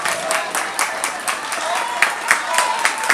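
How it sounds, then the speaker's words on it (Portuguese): Audience clapping for a team placed third at an anniversary event, steady applause with sharp individual claps standing out and some voices mixed in. "Palmas para eles."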